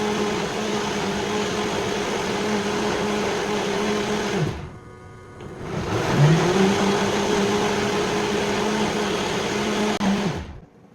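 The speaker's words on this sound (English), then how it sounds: "So I love this blender so much." A countertop blender whirs steadily as it blends fruit into a juice, the motor pausing for about a second midway before spinning back up and running loudly until it cuts off at the end.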